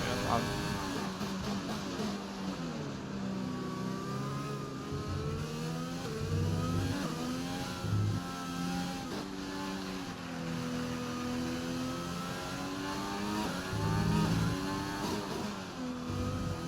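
An F1 2020 race car engine revs and climbs through the gears in a video game race, a continuous buzzing drone that rises and falls, with a voice talking over it throughout.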